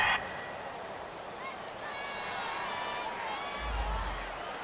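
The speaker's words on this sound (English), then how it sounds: "This home crowd, they're happy with that call." A home stadium crowd at an NFL game, Bengals against Chargers, cheers a pass interference call with a steady distant roar under commentary.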